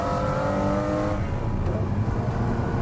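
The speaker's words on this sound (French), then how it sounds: "Maintenant, il est temps pour toi d'accélérer. Voir un peu ce que ce V12 nous réserve." The V12 engine of a McLaren F1 accelerating hard, a loud, dense mechanical roar with a whirring edge that climbs steadily and then holds a powerful, sustained drone.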